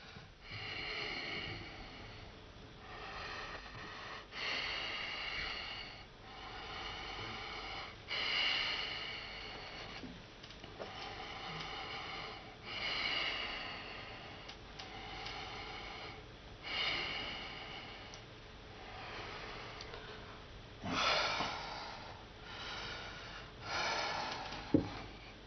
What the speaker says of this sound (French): il est haletant